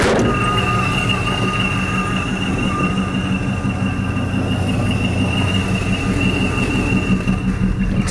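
A 2017 Oldsmobile built for Power Tour rumbles steadily on a drive, with a constant loud low engine and road drone and faint whining tones over it, no talking.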